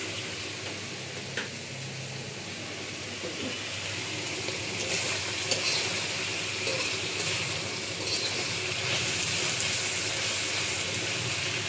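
Dried kachki fish fry in a pan of rice bran oil over a high gas flame, a quiet continuous sizzle that swells slightly in the latter half, with no talking.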